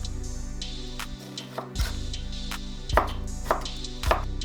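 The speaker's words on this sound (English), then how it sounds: "And then turn the onion 90 degrees to thinly slice it." Knife thinly slicing an onion on a cutting board, with a few crisp chopping cuts spaced irregularly, close and fairly quiet over a steady background hum.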